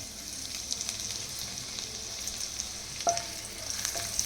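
Coarsely pounded ginger-garlic paste dropped into a ladleful of hot oil for chilli potato, giving a steady close sizzle and crackle throughout, with a brief sharper spatter and clatter near the end, no talk.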